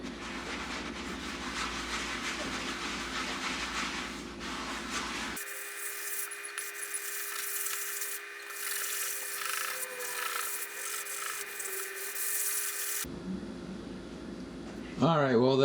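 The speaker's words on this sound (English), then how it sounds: "I know it's going to take a lot of scrubbing to get all of this out" Brown stains are scrubbed with Barkeeper's Friend oxalic acid cleaner, giving repeated close rasping strokes, with the recording cutting between segments and ending in a brief louder scuff.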